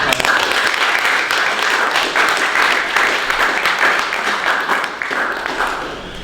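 Applause at the close of a student research presentation on ramie fiber filters, ordered by the moderator: a broad, lively patter of many hands that holds steady and then eases a little near the end, with some voice mixed underneath.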